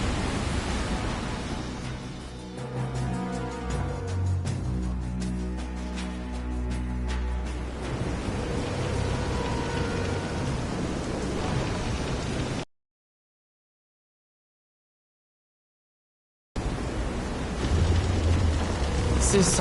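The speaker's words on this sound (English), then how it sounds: "This is some storm." A heavy storm at sea around a pitching boat, with a dense roar of rain and wind, low rumbles beneath, and a few voices talking over it, cut by a short stretch of silence.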